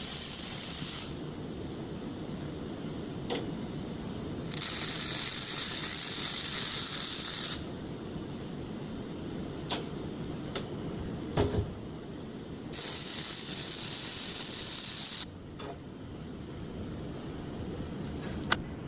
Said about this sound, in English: Just listen to that bacon crackle.